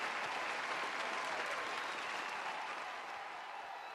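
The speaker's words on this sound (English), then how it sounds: "How about another round of applause for Sam?" A crowd at a Libertarian Party gathering gives a sustained round of applause, dense and even throughout, slowly tapering off toward the end, with no one speaking over it.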